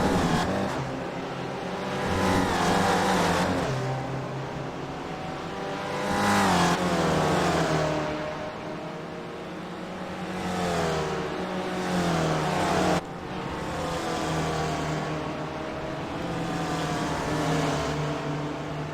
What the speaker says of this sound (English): Gianni Selitolo now is behind the red car of Cristobal Gutierrez.